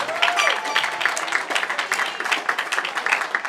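A crowd at a graduation ceremony for the Berkeley Institute Class of 2025 gives a steady round of applause for a speaker, Dr. Eve. The clapping is broad and fairly loud, with scattered voices mixed in.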